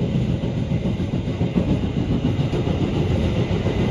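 The KA Taksaka train rolls through Cikarang station, heard from on board as a continuous loud rumble with a busy rattle of wheels and carriages that stays steady throughout.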